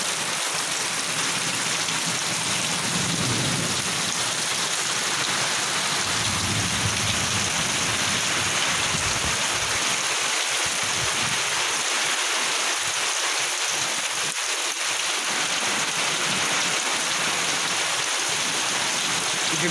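A heavy village downpour roars steadily with dense drops and runoff. A low thunder-like rumble swells early on, and the rain continues as a loud, constant wash.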